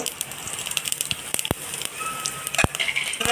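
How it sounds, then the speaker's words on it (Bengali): Whole spices (bay leaf, dried red chilli, cardamom, cinnamon, cloves and cumin seeds) frying in hot oil for egg pulao, giving a steady close sizzle with scattered sharp crackles and pops. "মশলাটা আমি হালকা করে ভাজবো"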